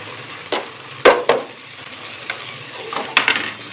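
Ground spices, including crushed dry coriander, dropped into a hot pan for an aloo matar pulao base, crackling in an even sizzle. A few sharp scrapes and spoon knocks punctuate the frying.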